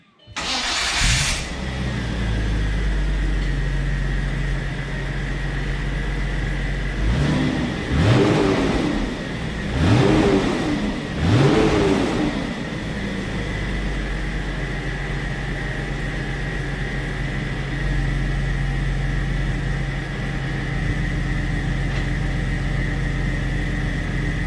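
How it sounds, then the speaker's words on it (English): An Audi B5 S4 engine with stock exhaust idles steadily, then three sharp revs rise and fall in quick succession before settling back to a low, constant idle. "I'll insert a clip right now of the stock exhaust."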